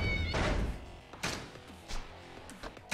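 A cat in the video game Yakuza 0 meows repeatedly in short, bright cries, mixed with dull thumps from the game, up close with no talking.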